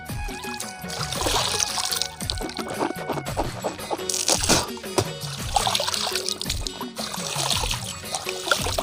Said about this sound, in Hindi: अपनी ये पानी में मुँह धोबो